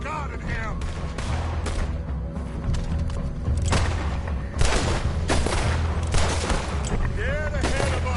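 Gunfire rings out in a Red Dead Redemption 2 fight, with a rapid series of loud, sharp shots and booming blasts in irregular bursts, crowded close together and echoing over a noisy background.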